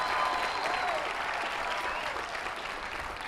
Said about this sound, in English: give your friends and family an applause